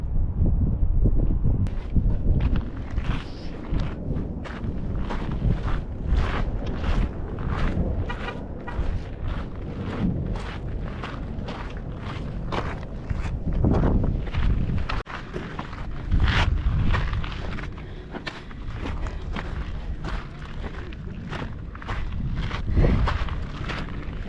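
Strong wind buffets the microphone in heavy, continuous gusts during a short, easy hike in Utah, with footsteps crunching underneath.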